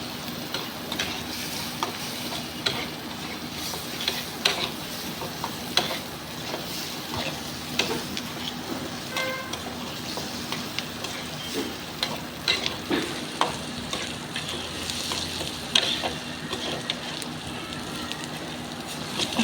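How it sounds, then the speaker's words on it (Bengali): Onions fry in oil for a rohu fish bhuna, a steady sizzle with frequent scraping and clinking of a spatula as they are stirred, continuous and close. "এখন পেঁয়াজটা এদিকে ভাজা হোক"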